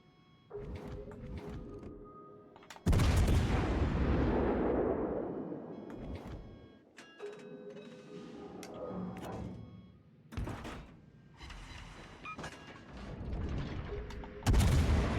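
Heavy naval artillery salvos boom out in a World of Warships Legends battle, several deep, loud blasts with long rumbling tails spaced a few seconds apart over a background of game sounds.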